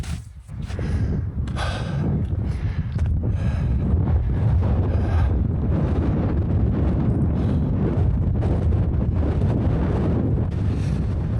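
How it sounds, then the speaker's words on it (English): Strong wind buffets the microphone on a high mountain ridge route in the High Uintas Wilderness, a steady, loud low roar with gusty rumbling throughout, no voices. "Really windy section."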